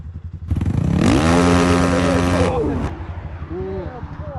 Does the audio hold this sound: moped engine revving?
yes